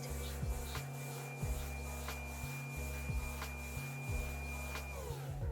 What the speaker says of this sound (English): we're going to allow our mixer to do its job, mixing in all of our salt and yeast.